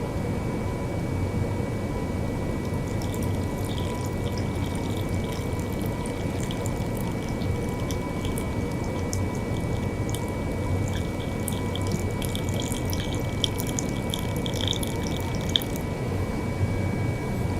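Buffer liquid pours steadily into a western blot transfer tank in a lab, a continuous close trickle and splash with faint high drips, running alone with no talk.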